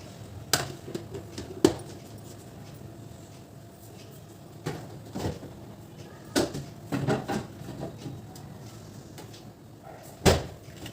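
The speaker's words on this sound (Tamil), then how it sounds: "பாக்ஸில் எடுத்து வச்சுருக்க ஃபிஷ்ஷை வந்து ஃப்ரீசரில் தான் வைக்க போகிறேன்." Boxed fish goes into a home freezer, marked by a few sharp knocks and thuds of a plastic box and the freezer door, scattered and fairly close over quiet room tone.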